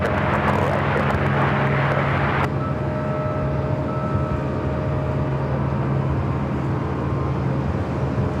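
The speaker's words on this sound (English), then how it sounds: "China Eastern, the flight 586, taking off on the south side" A China Eastern airliner takes off at Los Angeles International Airport, its steady loud engine roar rumbling low throughout, with a broadband hiss that fades after the first couple of seconds.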